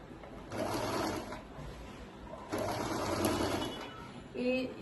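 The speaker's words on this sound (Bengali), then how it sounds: "এই ইলেকট্রিক সিঙ্গার মেশিনটাতে না সেলাই করে অনেক আরাম সেলাই করে।" An electric Singer sewing machine runs in two stitching bursts of about a second or more each, moderately close. A short quieter mechanical sound comes near the end, and no one speaks.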